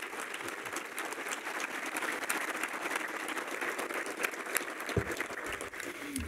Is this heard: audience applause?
yes